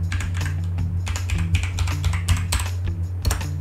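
Rapid keystrokes on a computer keyboard while a MetaMask password is entered, an uneven run of close, crisp clicks with a steady low hum underneath and no talk.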